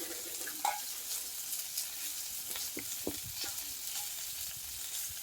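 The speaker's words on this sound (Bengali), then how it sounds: "এই বন্ধুরা আমি একটু ভালো করে ভেজে নিচ্ছি ভালো তার চাল কুমড়োটাকে ভালো করে একটু ভেজে নিয়ে" Chopped ash gourd frying in a pan, with a steady soft sizzle under scattered scrapes and taps of a spatula stirring, close and fairly quiet with no talking.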